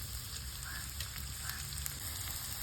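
Mustard seeds crackling in hot oil for a tempering, a continuous close frying hiss with small scattered pops and no talking.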